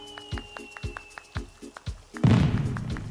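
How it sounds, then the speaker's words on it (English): Fireworks going off in the game Animal Crossing: New Horizons, a series of soft, evenly spaced distant thumps over a steady tone, then a louder rushing burst near the end. "Nice little fireworks show."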